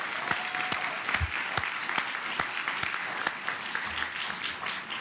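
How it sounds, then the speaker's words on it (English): Scattered applause for Students of the Month at a Philadelphia school event, a modest round of clapping with distinct individual claps standing out over a faint room background. "can we give the students one more round of applause"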